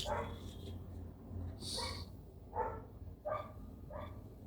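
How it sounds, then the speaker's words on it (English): Neighbours' dogs bark in a few short yips and whimpers, somewhat distant and faint, over a steady low background hum. "God, my neighbors' dogs are so fucking infuriating."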